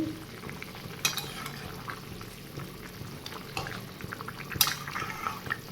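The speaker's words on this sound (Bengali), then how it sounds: "দেখতেই পাচ্ছ ঝোলটা ফুটছে।" Fish curry bubbles in a pot at close range, soft gurgles and pops with occasional sharper clinks of stirring.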